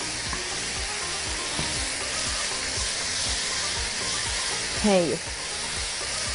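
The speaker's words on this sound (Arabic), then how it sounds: "واحنا بنشوح البصل" Onions sauté in a pan with a steady, even sizzle and hiss throughout, with a brief clatter near the end and a short spoken word.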